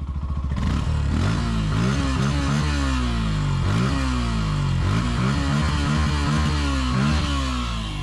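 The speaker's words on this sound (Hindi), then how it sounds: "बाइक बहुत स्मूथ है, बहुत प्यारी आवाज़ कर रही है।" A Yamaha FZS BS6 motorcycle engine and exhaust while riding, revving up and down through repeated rising and falling pulls, loud and close over steady wind noise, with no voices.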